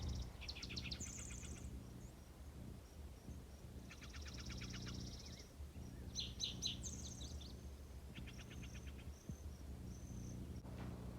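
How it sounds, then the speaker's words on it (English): Birds chirp and trill in short bursts, fairly faint and distant, over a low steady outdoor hum. "listen to the birds"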